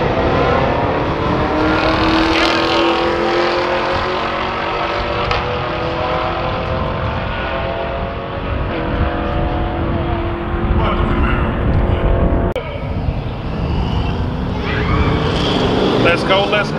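Donk car racing a Camaro SS, loud engines roaring and revving continuously with a sharp burst near the end, while voices shout excitedly over the noise.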